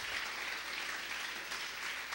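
Faint, steady applause from a congregation in a Spanish-language church service, an even wash of clapping without breaks, heard at a distance.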